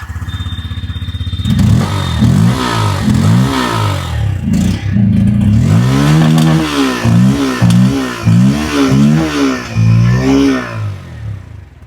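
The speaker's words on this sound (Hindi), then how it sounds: "और चलिए अब हम सुनते हैं इसका एग्जॉस्ट नोट।" A Bajaj Pulsar N160 motorcycle with an underbelly exhaust starts and then revs repeatedly, its engine note climbing and falling in a series of loud, close blips with no talking.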